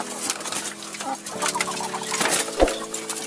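Laying hens cluck softly while being fed in a small backyard egg-laying flock, with scattered low calls over steady farmyard background and no talk.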